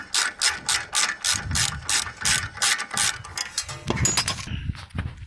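Rapid ratchet clicks from a hand ratchet loosening a bolt on a car, in close bursts of regular pawl clicking that slow and stop near the end.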